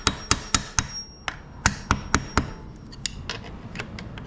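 A hammer strikes metal locking tabs, bending them down over a nut on a Yamaha Raptor 700R ATV, with about ten sharp, close taps in two quick series separated by a short pause.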